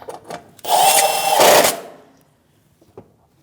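A power driver with a 7mm socket runs a bolt into the inner fender liner of a 2016-2025 Chevrolet Malibu, giving one steady whirring burst of about a second and a half, close and loud, then quiet.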